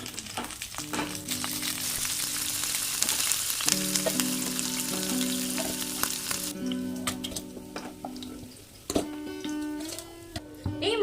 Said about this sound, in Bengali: মাছগুলো আমাদের লাল লাল করে ভাজা হয়ে গেছে